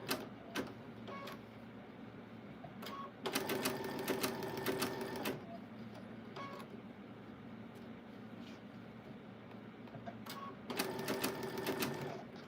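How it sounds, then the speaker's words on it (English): A sewing machine runs a basting stitch in bursts, its rapid mechanical clatter starting and stopping several times over a steady low background hum, at moderate distance. "This is a basting stitch I have going on here."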